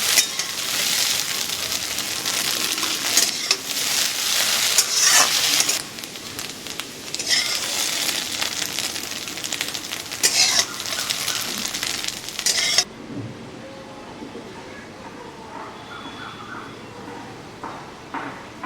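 Egg bhujia fries in a pan with a steady, bright sizzle and occasional clinks of utensil against metal. After about 13 seconds the sizzle drops to a quieter crackle.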